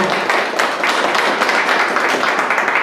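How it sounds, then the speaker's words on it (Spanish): Loud, close audience applause at a church forum event, a dense steady crowd of clapping hands sustained throughout without pause. "Un fuerte aplauso."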